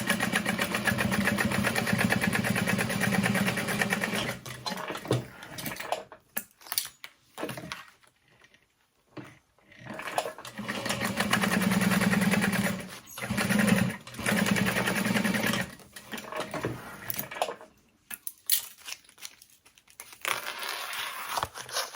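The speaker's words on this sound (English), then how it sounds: "And then we'll top stitch that down." A sewing machine topstitches a cross-body sling bag, its motor whirring in loud, rapid bursts that stop and restart several times with brief quiet gaps between runs.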